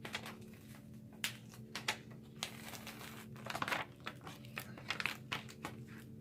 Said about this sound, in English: Once you find an edge, all you have to do is just remove the backing.